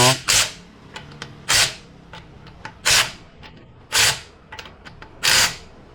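A Milwaukee M12 stubby impact wrench, Gen 3 FIW2F12 on a 6Ah battery at speed setting 3, fires five loud, close bursts of rapid hammering, separated by short pauses with small clicks.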